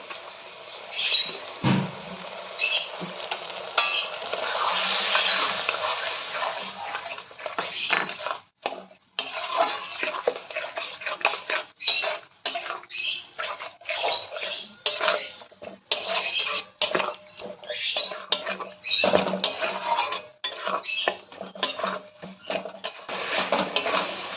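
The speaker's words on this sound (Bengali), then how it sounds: "মশলাটাকে ভালো করে কষিয়ে নেব" Spice paste with water in a pan is stirred and scraped with a metal utensil while cooking for a Bengali chicken curry with chui jhal, giving repeated scraping and clinking strokes in an uneven rhythm, close and fairly loud.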